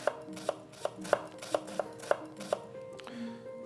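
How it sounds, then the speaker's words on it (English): Knife chopping an onion finely on a board, a steady series of about eight crisp, close taps roughly every third of a second, then a quieter pause at the end. "When you're using your knife to cut an onion finely"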